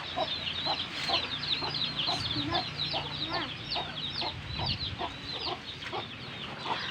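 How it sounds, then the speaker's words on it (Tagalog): Mother hens cluck steadily in a busy, continuous chorus, several birds close by with overlapping short calls and a faint background rumble. "Ayan na po yung aming mga inahin. May mga sisiw pa."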